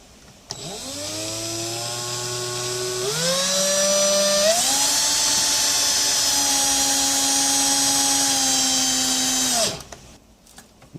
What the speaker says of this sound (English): Right, drilling this one and this one.